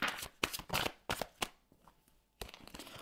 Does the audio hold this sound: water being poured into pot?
no